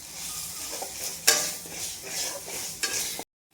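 Garlic-ginger paste being sautéed in oil for misal, a soft sizzle with a spatula stirring and scraping the pan in short bursts before cutting off abruptly.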